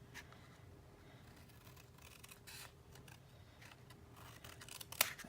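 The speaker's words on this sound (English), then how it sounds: "That corner looks pretty good. Let me just trim a little bit more." Scissors snip at the corner of a paper page for a handmade mini album, a few quiet cuts ending in one sharp, distinct snip close by, with no talking.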